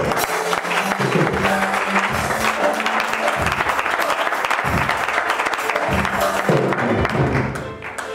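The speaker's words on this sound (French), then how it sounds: "Acclame très fort." Loud, sustained applause from a church congregation during an evangelical sermon on perseverance, with dense clapping and crowd noise that continues throughout.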